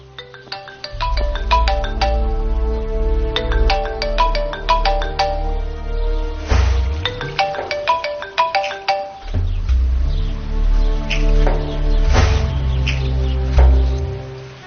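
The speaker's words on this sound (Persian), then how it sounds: "تلفن شما زنگ میزند" A melodic telephone ringtone chimes in repeated electronic phrases, loud and close, cycling through several bursts with brief pauses between them and no voices over it.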